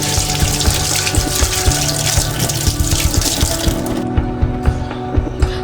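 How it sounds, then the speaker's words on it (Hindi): Fresh water gushes loudly into a jug, a continuous splashing pour with bubbling knocks that thins out toward the end, with no voices over it. "तो अब आप इसमें ये फ्रेश पानी डाल दो।"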